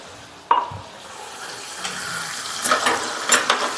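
Chicken meat frying with crushed garlic and ginger in a pan, a soft steady sizzle broken by a sharp clatter of utensil, then scraping stirring strokes that grow busier toward the end.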